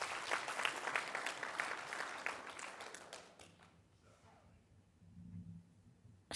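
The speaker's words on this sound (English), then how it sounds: "Clap your hands for yourselves." Audience at a national taxi industry gathering clapping for themselves, a loud burst of many hands for about three seconds that quickly fades out, leaving quiet room noise with a faint low murmur afterward.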